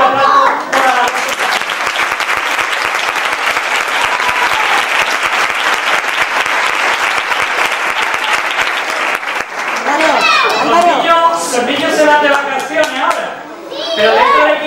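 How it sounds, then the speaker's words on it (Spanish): A crowd applauds loudly for about ten seconds at an end-of-season gathering for the Pitufos youth team of UD Roteña, honoring Alonso; the clapping then fades into overlapping chatter and children's voices. "que se le dé un fuerte aplauso"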